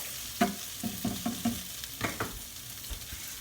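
Garlic sizzling in a pan while being stirred, a few soft scraping strokes in quick succession over a faint frying hiss, close and quiet.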